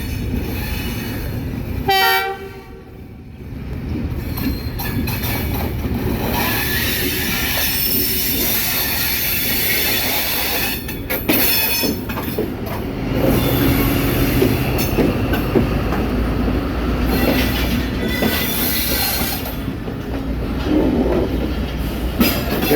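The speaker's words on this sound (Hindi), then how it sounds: "to down Khyber mail arrival Lahore railway junction 7:10 पर" The Khyber Mail train arriving at Lahore railway junction, with loud rolling wheels, clattering rail joints, squealing brakes and horn blasts over a steady rumble as the coaches pull into the platform.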